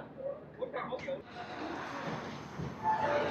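Duronto express train number 12260, running Bikaner to Sealdah, pulls out of Churu junction with a steady rolling rumble and clatter heard from inside the coach, while a person talks over it.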